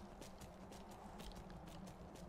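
Horse hooves clip-clop steadily while riding in the video game Skyrim, a faint, even trotting rhythm of soft thuds beneath low background ambience.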